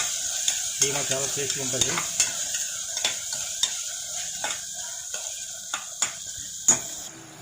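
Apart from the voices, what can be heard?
cloves, cardamom and cinnamon frying in a pan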